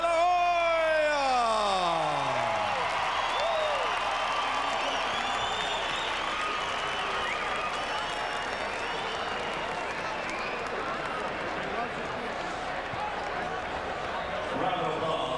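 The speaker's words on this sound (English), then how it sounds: "Round of applause." A boxing arena crowd applauds and cheers for a WBC welterweight championship fight, with a steady roar of clapping and whoops throughout and a descending tone briefly heard at the start.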